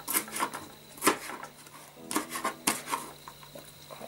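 A kitchen knife shreds and slices pieces for buckwheat with chicken in cream, tapping and scraping against a cutting board in quick, uneven strokes, close and fairly quiet with no talking.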